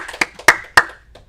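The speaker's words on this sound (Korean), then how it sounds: "우리 환영의 박수 한 번 더." A few distinct, sharp hand claps ring out in a church sanctuary during a Sunday service welcome, three strong claps spaced evenly with fainter ones around them, close and loud with a short decay.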